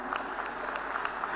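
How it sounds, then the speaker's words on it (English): Fairly faint, steady clapping from an audience honoring an award recipient at a ceremony, an even patter of applause with no one speaking over it. "let the claps keep rolling, ladies and gentlemen, come on."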